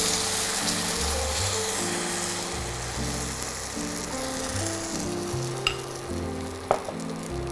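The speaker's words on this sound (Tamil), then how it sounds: "இப்போ நம்ம பர்கருக்கான மாவை தவாவில் ஊற்றிட்டோம்" Suji batter sizzles steadily on a hot tawa over low flame while a burger base cooks, a constant loud frying hiss with a couple of sharp clicks near the end.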